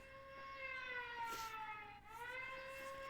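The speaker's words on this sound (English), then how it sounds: "I just want to listen to the sirens just continuously run." Emergency sirens wail in long, steady rising and falling tones with layered harmonics, fairly distant and continuous, with a brief dip midway and no talk.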